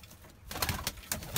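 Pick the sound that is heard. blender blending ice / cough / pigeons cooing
pigeons cooing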